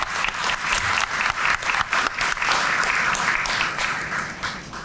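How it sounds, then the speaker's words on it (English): An audience at a police district community relations awards ceremony applauds officers' families, sustained dense clapping filling the room at steady loudness for the whole stretch. "if we could just give a round of applause to the families who are there to support them"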